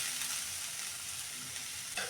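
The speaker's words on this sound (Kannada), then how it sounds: "ಅದೇ ಬಾಣಲೆ ಇಟ್ಕೊಂಡಿದ್ದೀನಿ ನಾನು ಅದರಲ್ಲೇ ನಾನು ಕ್ಯಾಪ್ಸಿಕಮ್ ಹುರಿತೀನಿ" Capsicum fries in a pan, giving a steady close sizzle that runs unbroken throughout, with a brief stirring clatter near the end and no talk.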